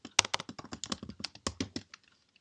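Rapid, close keystrokes on a computer keyboard as code is typed, about a dozen crisp clicks in quick rhythm, then silence.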